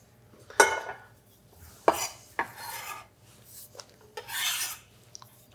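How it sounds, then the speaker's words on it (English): Crispy enchilada bits tossed in a mixing bowl, giving a few sharp scraping rasps and clattering rustles against the bowl, close and alone with no talk. "let's toss those in a bowl."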